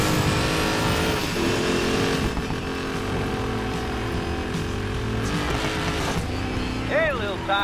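Racing car engines rev and roar in the Need for Speed Payback street race game, a dense, loud engine drone with rising whines near the end, mixed under in-game voices and music.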